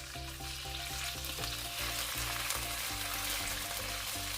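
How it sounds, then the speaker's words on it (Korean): A spoonful of minced garlic fries in cooking oil in a preheated pan, giving a steady close sizzle with a faint hum and a light clink at the end. "예열된 팬에 식용유 1큰술을 두르고 다진 마늘 1큰술을 넣고 볶아줍니다."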